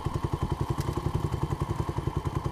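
A dirt bike engine runs with a fast, even thumping idle, loud and close, a steady mechanical putter that continues throughout without talk.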